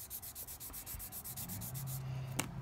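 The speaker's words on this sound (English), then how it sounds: "get my finishing sanding stick here, get that nice and smooth" Quick, rhythmic back-and-forth strokes of a finishing sanding stick rasp close by on a scale model radiator, about a dozen even passes in a steady rhythm.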